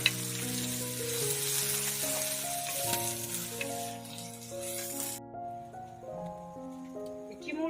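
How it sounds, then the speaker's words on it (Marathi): Crushed garlic, crushed green chilli and finely chopped onion sauté in a pan for a jackfruit curry. A soft steady sizzle plays under sustained background music, and the sizzle drops away partway through. "ठेसलेली हिरवी मिरची बारीक चिरून ठेवलेला कांदा पाच मिनिटं व्यवस्थित परतून घेऊया"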